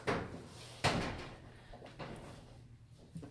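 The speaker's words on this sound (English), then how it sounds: "And I open up the door." A home kitchen oven door is opened after the oven is switched off during yeast bread making, giving a sharp clunk and then a second thud, followed by faint rustling, with no talk.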